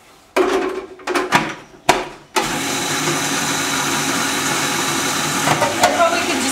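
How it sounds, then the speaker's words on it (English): A food processor mixing raw cake batter with cacao powder, starting with a few short bursts and then running in a steady, loud whir that continues to the end. "I'm just going to use the food processor because we've got it out"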